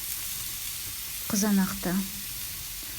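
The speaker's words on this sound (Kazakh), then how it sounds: "Ыстық гриль табаға етімізді саламыз" Steady sizzling of meat and vegetables on a hot grill pan, a constant close hiss with a brief voice speaking over it partway through.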